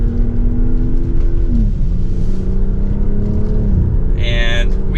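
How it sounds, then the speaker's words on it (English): BMW X4 M40i in sport mode, revving as it downshifts through a few gears, its engine note stepping up in pitch with each shift and running steady and loud from start to finish. "if we put it into sport mode, we can downshift a few gears here. Sounds really good."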